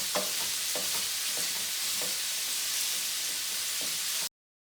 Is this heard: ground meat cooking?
yes